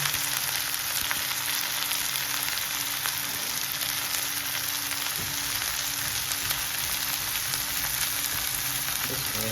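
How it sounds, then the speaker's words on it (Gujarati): Onions and tomatoes fry steadily in a pan, a constant close sizzle that holds even throughout with no talking. "ડુંગળી ફ્રાય થઈ જાય એટલે ટામેટા નાખશું."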